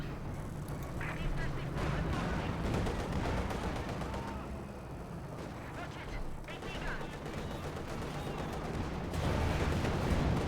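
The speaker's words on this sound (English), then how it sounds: "Shots fired there" Distant gunfire and artillery rumble through a Company of Heroes 2 battle between German OKW and Soviet forces, dense overlapping shots and booms forming a continuous roar of combat.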